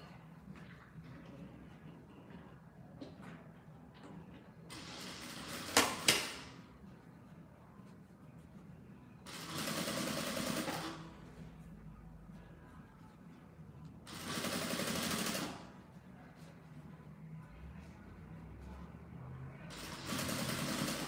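A sewing machine top stitches a fabric squeeze pouch in four separate bursts of steady buzzing stitching, with quiet handling and fabric rustle in the pauses between runs.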